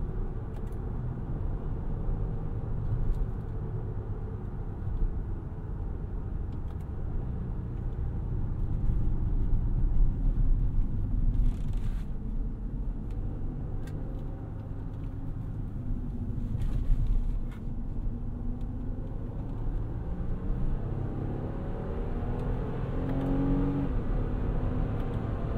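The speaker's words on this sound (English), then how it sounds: "Drop it again, put it in manual mode," A 2023 Nissan Pathfinder Rock Creek SUV's engine droning and rising through revs as gears are shifted with paddles in manual mode, a steady low rumble heard from inside the cabin with no talk.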